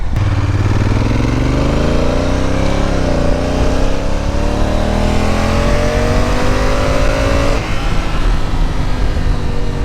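A Honda Africa Twin DCT motorcycle rides on a highway, its engine loud and close as it accelerates through rising gear pitches, with a clear shift near the end and steady wind noise.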